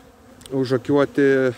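Honey bees buzz close to the microphone at a hive with nectar-filled combs, in three short droning bursts with brief gaps between them.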